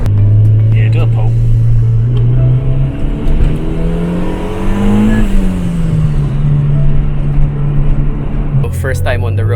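Car engine revving hard on a dynamometer during a pull, a loud sustained drone rising steadily in pitch then easing off, close and continuous throughout.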